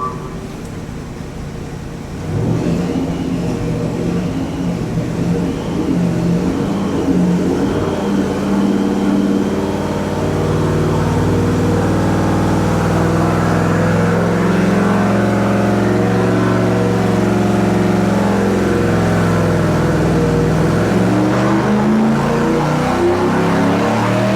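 LS V8 engine on pump gas during a dyno pull, a loud sustained roar climbing steadily in pitch as it revs up, with little talk.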